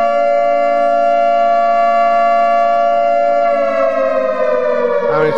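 A Simple Sirens, Alarms & Bells mod siren in Minecraft wails as a loud, steady civil-defense tone with rich harmonics, holding pitch before sliding downward near the end.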